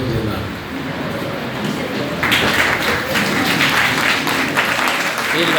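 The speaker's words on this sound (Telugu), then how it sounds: "I request the congregation to please stand up and clap for these graduates." A graduation ceremony congregation applauds its graduates: sustained, dense clapping that swells and grows louder partway through, filling the hall without a break.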